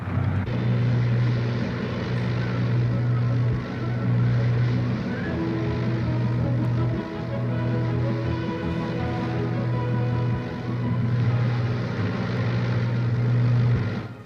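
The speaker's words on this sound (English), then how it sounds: "Testing is thorough, with one engine and with both." Both piston engines of a de Havilland Mosquito run steadily under test, a loud, close, continuous droning roar with a strong low hum that swells and dips slightly over time, with no voices.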